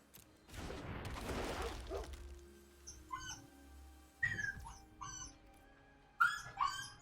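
Pet dog Ziggy, a female, whimpers and lets out several short, high yelps and barks in a room, starting after a loud rustling burst, coming in bursts with pauses between them.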